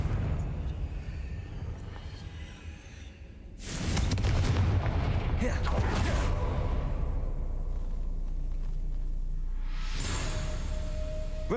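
Fiery Confringo spell blasts in the Hogwarts Legacy video game, a sudden loud burst of explosive booming and crackle that keeps roaring for several seconds, with a second sharp flare near the end.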